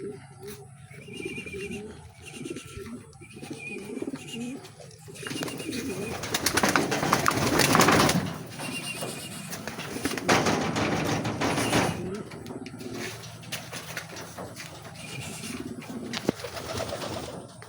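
Racing pigeons coo at a loft during a training race arrival in San Joaquin, Iloilo, soft repeated throaty calls under background noise and nearby voices speaking.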